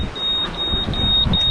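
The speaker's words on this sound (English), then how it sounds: "my waypoint alarm." A boat's navigation waypoint alarm beeps repeatedly on a sailing passage, a series of short, regular high-pitched pips over low engine and water rumble.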